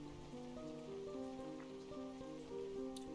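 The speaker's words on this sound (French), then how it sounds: "Ah, quel cauchemar, la pluie ne semble pas vouloir s'arrêter." Rain falling in the video game Ocean's Heart, a steady, soft patter on surfaces heard faintly beneath a looping melodic game tune.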